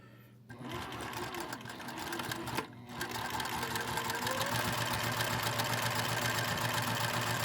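A Juki TL 2000 Qi sewing machine stitches lining fabric, starting with a brief stop-and-go before settling into a steady, fast, continuous mechanical whir close to the listener.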